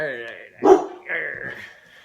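A dog barks once at its own reflection near a lake, a single short, sharp bark in the middle, with people talking before and after it.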